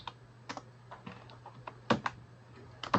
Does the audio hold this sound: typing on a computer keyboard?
yes